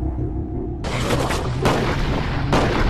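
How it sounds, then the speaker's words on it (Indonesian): Gunfire exchange in a dark forest during a film scene: a series of heavy, loud shot blasts arrives in close succession, each surging over a continuous rumbling background, with no talking. "aksi tembak-menembak terus terjadi"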